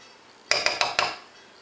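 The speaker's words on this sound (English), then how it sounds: "I'm just going to scoop it out" A spoon scoops ripe, soft avocado into a bowl for guacamole, striking the dish in four quick, bright clinks spaced a beat apart, close and clear against a quiet background.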